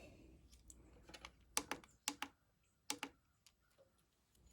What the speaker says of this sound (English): Keep clicking the settings button and it'll come all the way back to your time that you got it set.